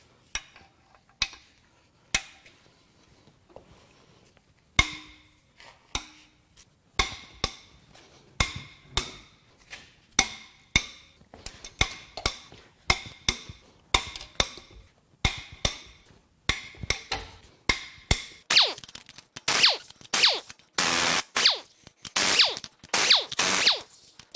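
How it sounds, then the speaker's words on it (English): Head bolts on a blown Acura Integra B18B1 engine being cracked loose, a series of sharp metallic clacks and ratchet bursts, sparse at first and then quickening into dense, louder ratcheting near the end, close and without speech. "Now it's time to crack the head bolts loose."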